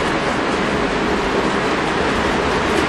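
A long model railroad freight train runs steadily past, giving a continuous loud rolling rumble and hiss with no breaks.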